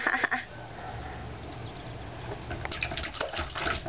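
Water splashes and sloshes in a pail on an outdoor patio, irregular close slaps and drips that grow busier toward the end.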